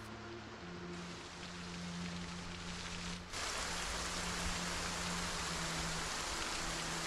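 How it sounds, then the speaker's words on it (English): Heavy rain pouring steadily in a game world, a dense hiss of drops on surfaces with a low hum underneath, swelling louder partway through and staying constant. "it's still raining real hard"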